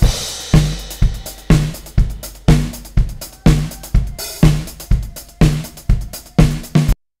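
Playback of a live studio drum kit recording playing only kick and snare, a steady pattern of punchy, loud hits about every half second, each kick thump paired with a snare crack and some ringing room tone, with no talking.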